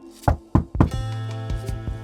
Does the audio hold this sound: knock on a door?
yes